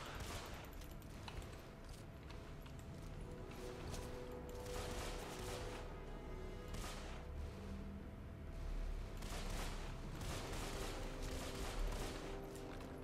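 Dual pistols fire steadily in the first-person game Deadfall Adventures, with rapid overlapping shots and a dense, continuous barrage of gunfire from start to finish.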